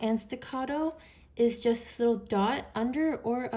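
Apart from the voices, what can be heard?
No distinct noise like a dog, phone or traffic.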